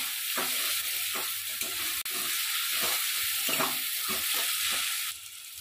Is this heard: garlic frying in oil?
yes